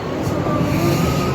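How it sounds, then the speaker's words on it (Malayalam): A train pulls into a station in Australia, its low steady rumble and rolling wheel noise loud and close throughout. "ട്രെയിൻ വന്നിട്ടുണ്ട്."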